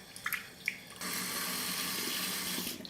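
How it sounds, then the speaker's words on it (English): Tap water runs steadily into a sink while water spinach (tung choi) is rinsed for a Chinese fish soup, a continuous close splashing stream after a few brief clinks. "Rinse thoroughly with water."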